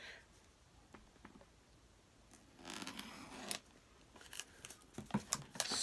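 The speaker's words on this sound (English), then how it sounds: "I have my scissors here, so I'm going to open it up" Scissors cut open a Dollar Tree package, a quiet stretch followed by bursts of crisp plastic snipping and crinkling, close and growing louder toward the end.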